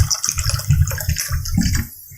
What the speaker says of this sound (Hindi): इसमें 2 ग्लास पानी डाल दें।